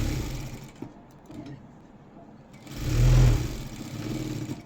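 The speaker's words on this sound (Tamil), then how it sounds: "கரெக்டாக அந்த லைனிங் எங்கே முடியுதோ அதே இடத்துல போடுங்க தையல்." A sewing machine stitches a blouse lining with a steady mechanical whir that dips quieter, then swells into a louder, deeper run before settling into a moderate hum.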